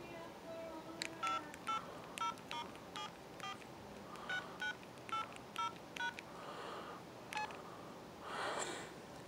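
Keypad buttons on an LG enV VX9900 Verizon flip phone sound a string of about a dozen short, clear touch-tone beeps at an uneven pace, fairly close and moderately quiet over a faint room hiss.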